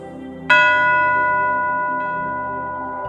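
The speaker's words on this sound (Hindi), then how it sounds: "घंटी की आवाज से शुरू करेंगे" A single bell strikes once and rings on with a long, slowly fading shimmering tone.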